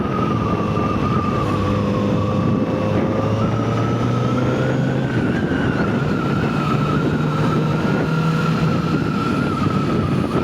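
A Kawasaki Z900RS motorcycle engine on its stock exhaust, a loud, steady drone that holds close and constant with gently shifting pitch, and no voices over it.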